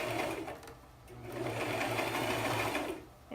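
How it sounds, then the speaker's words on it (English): A sewing machine runs steadily, edge stitching a seam with bias tape about an eighth of an inch from the original stitch line, the motor humming loud and close with a brief slowdown near the start. "I'm stitching away from my original stitch by 1/8 of an inch"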